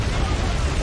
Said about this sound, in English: let's try an AT grenade